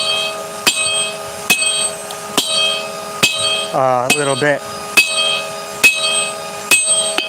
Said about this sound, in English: I gotta get after it with the little bitty small hammer and forge this down